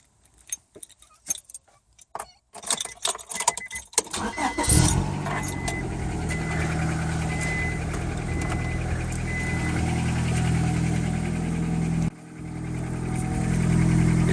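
A Honda Accord with its muffler removed cranks after some keys jangle, then settles into a loud, steady raw idle that runs continuously, with a brief dip partway through before the rumble resumes.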